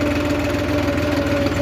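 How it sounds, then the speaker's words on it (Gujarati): A GPS-guided tractor engine runs on its own across a farm field, a steady throbbing mid-pitched drone with a faint knocking pulse, close and unbroken. "હું ટ્રેક્ટર હાંકું અને ટ્રેક્ટર જો એની રીતના હાલે ઓટોમેટિક."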